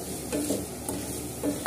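Liver gravy with tomato and turmeric being stirred in a pan, a few soft scraping strokes over a steady low sizzle, close and moderately quiet with no talking.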